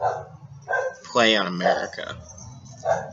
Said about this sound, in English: That's the neighbor's dog barking right now.